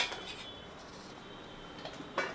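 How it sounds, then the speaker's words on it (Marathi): A lid is set onto a pan of paneer curry cooking on the stove, giving a soft metallic clink near the end, after a quiet stretch of kitchen background. "आता पुन्हा एकदा ह्यावर झाकण ठेवून आपल्याला"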